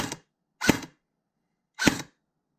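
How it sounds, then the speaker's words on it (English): A Lancer Tactical Interceptor Gen2 budget airsoft sniper rifle fires three sharp, close shots at uneven intervals, each a crisp snap followed by a brief metallic thud and ring. "if you listen closely after I pull the trigger, you can hear like a metal, kind of like a metal thud back"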